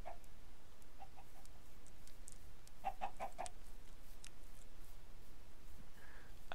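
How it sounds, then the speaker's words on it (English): Minecraft chickens clucking softly in short scattered clucks, including a quick cluster of four, faint over a steady game ambience. "I could gather all these chickens into a pen."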